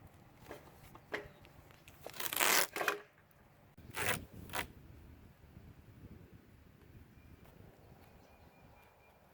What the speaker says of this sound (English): And now, because it's so rough, we're gonna duct tape this one on.